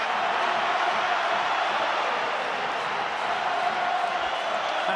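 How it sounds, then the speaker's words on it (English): A rugby league crowd roars at the Grand Final, Wigan supporters cheering in a dense, sustained wash of noise that holds steady throughout. "And suddenly the Wigan crowd come alive."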